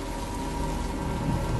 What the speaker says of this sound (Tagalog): Yung kulog lang yung narinig ko.